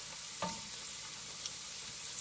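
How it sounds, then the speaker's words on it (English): Three garlic cloves cook in a pan, a quiet, even sizzle with a single brief clatter near the start and no speech over it. "Now let's add 3 garlic cloves. And we're just going to cook this until we can smell the fragrance."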